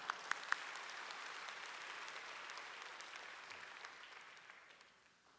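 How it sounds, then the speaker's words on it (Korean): Church congregation applauding together in a large hall, a few sharp claps at first and then sustained clapping that fades out toward the end. "박수, 박수."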